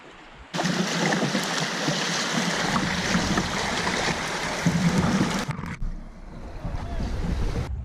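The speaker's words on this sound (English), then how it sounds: "Pretty stretch of river." Steady, loud rushing water of a river flowing past a sandy, low-sloped beach along the Johns River in North Carolina in winter, a dense continuous wash that begins abruptly and carries on without talk.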